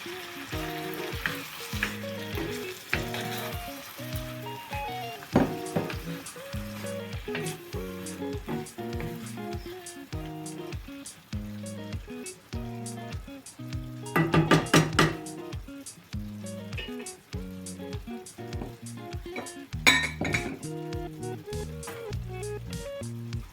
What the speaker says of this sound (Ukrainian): Тепер додаю помідори. Все разом перемішую.